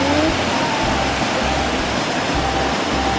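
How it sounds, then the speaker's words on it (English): Waterfall in a Borneo rainforest, a steady, dense rushing roar heard close and loud, with no break for the whole stretch. "With Angel, We're just gonna see the waterfall here."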